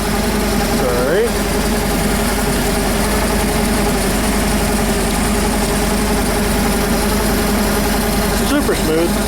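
An engine idles steadily and smoothly after a carburetor adjustment, a loud continuous close-up rumble with a couple of brief higher-pitched squeaks at the start and end.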